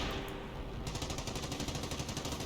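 Rapid strafing-run gunfire rattles in Company of Heroes, a fast even stream of shots sustained throughout, fairly faint in the mix.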